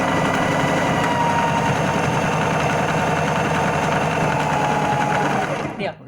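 A sewing machine hums steadily and close at a fast, even stitching rhythm, running continuously before cutting off abruptly near the end.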